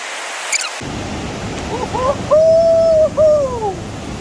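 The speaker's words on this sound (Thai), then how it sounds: "น้ำตกตัดเลาะ สุดยอด" Tad Lo waterfall in Salavan, Laos, gives a steady broadband roar that rises in after a near-silent start, with clear bird-like whistles over the rushing water.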